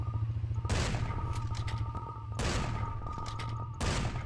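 Gunfire erupts in the Cortex Command video game, with loud bursts of rapid shots that start abruptly and repeat in three blasts, leaving a rattling clatter between them over a low hum.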